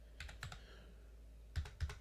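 Computer keyboard typing on a trading setup: a quick burst of several faint key clicks, a pause, then two sharper taps, quiet and close.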